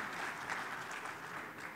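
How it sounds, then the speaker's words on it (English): Audience applause fills a hall at a peace forum, a steady even patter of many hands clapping together, moderately distant and fairly soft, with no voices over it. "I think we should also give them a round of applause for all the hard work that they do"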